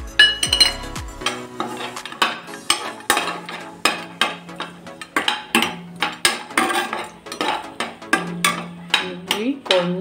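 Almonds frying in a pan are stirred with a metal spoon, giving rapid repeated clinks and scrapes against the pan in a busy, fairly loud rhythm, with no voices.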